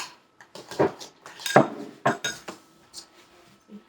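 A spoon stirring icing in a bowl, giving a series of close, irregular clinks and scrapes against the bowl with short pauses between, loud and bright, with no talking.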